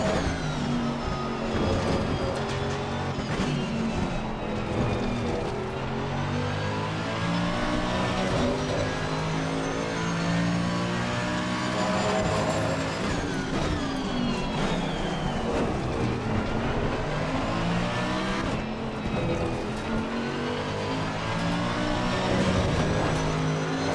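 Race car engine in a sim racing game at Misano, a loud, continuous high-revving drone that climbs and drops through gear changes with brief tire squeal, steady throughout with no talk.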